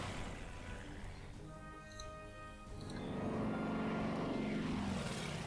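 Propeller aircraft engines drone steadily in the WWII strategy game Order of Battle, set in the Battle of Britain, with a harmonic whine that swells louder and rougher toward the end.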